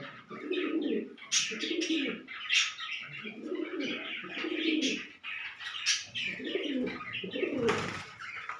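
Pigeons, including a Sira male kept for sale, coo in a repeated low, rolling rhythm close by, with bright chirps and tweets from other birds mixed over them.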